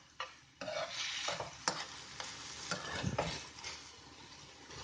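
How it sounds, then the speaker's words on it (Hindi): Chicken pieces fry in a pan over a medium-high flame, giving a continuous close sizzle with several scraping stirs and light utensil knocks, no voices. "अब चिकन को मीडियम हाई फ्लेम पर वाइट होने तक कुक कर लेना है।"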